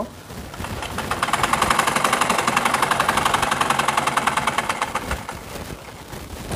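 A sewing machine top-stitching around a trouser zipper, a rapid regular needle chatter that builds up, holds at a fast even pace and then slows and stops, heard up close.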